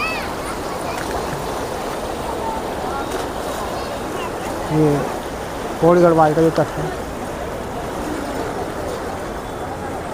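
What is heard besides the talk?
fast-flowing Ganga river water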